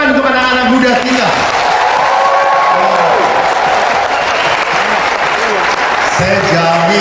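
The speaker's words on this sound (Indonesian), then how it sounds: "Tepuk tangan untuk anak-anak muda kita" A church congregation applauds the young people at a Catholic sermon, a dense, loud wash of clapping with a few cheers. A voice carries on over it and rises again near the end.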